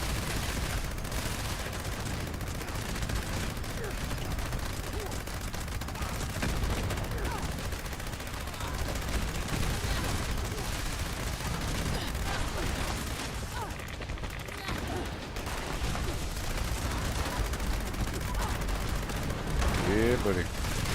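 Sustained gunfire rattles against an enemy in Fallout 76, dense bursts of shots running without pause through the whole stretch, with voices talking over the shooting.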